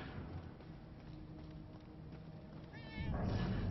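A short, wavering cat meow from the video game Murdered: Soul Suspect, faint and thin, rising over a background of muffled noise.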